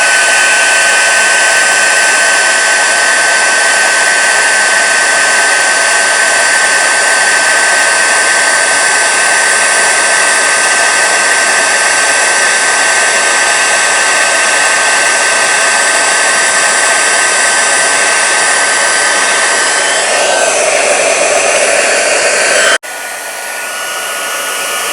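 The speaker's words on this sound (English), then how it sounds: "We'll go ahead and turn the heat tool on again." Embossing heat tool running continuously at close range while heating a silver embossed stamped card, a loud steady blowing roar that stops abruptly near the end and leaves quiet room tone.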